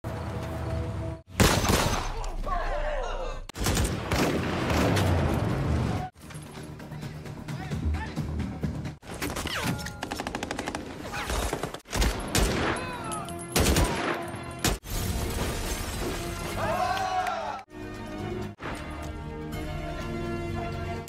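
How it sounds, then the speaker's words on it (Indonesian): Gunfire rings out during an armed assault on a mafia boss's house in an action film, with repeated loud bursts and single shots separated by brief silences, along with crashes and breaking glass. "Walaupun awalnya Nero berhasil membunuh beberapa penjaga, tetapi di tengah jalan dia kewalahan dan sayangnya dia ditembak oleh Omar sendiri"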